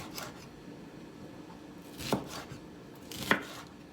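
A knife cuts bell peppers into long fajita-style strips on a board, giving two quiet, distinct slicing strokes over a faint background.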